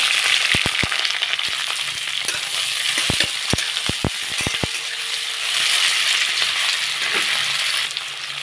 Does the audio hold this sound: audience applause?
no